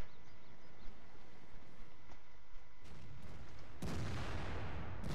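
Tank cannon fire from a T95 in World of Tanks: a steady rumbling game soundscape that swells into a loud, broadband blast near the end, with no talk.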